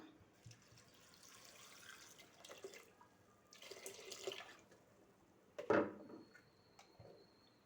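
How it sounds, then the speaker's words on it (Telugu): Water poured into a pressure cooker over dal with onions, tomato and turmeric, a couple of short splashing gushes between quieter clinks and movement, heard close up in a home kitchen. "వాటర్ వేసుకుందాం."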